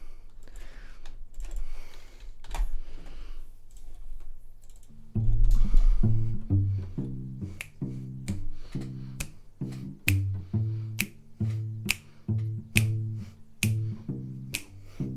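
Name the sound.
clicking sounds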